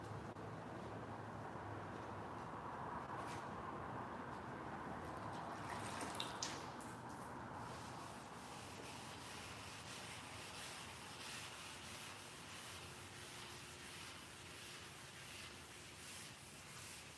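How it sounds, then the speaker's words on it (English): Fine sandpaper on a block wet-sands a car body, giving a soft, steady rubbing and swishing close by, with brief louder scrapes partway through and faint water sounds, no talk. "Wet sanding is taking a really fine sandpaper"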